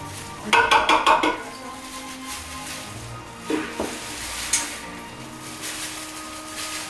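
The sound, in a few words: adding canned tomato sauce to crockpot chili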